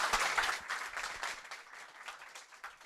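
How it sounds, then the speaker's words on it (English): A conference audience gives a speaker a round of applause after a talk on data pipeline orchestration, dense clapping from many hands at moderate distance, steady at first and gradually thinning toward the end. "may I ask for a round of applause for Otto once again"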